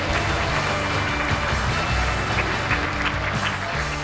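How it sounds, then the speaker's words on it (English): Students at a Galactic space-program event break into sustained applause, a dense, even wash of clapping that fills the whole stretch, with no talk over it. "So give yourselves a round of applause."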